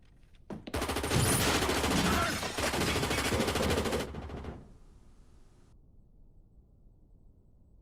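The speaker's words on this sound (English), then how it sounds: "You're hearing gunshots." Rapid bursts of gunfire from the 2007 crime thriller film No Country for Old Men crash in loud and dense for about four seconds, then drop away into a quiet, faint tail.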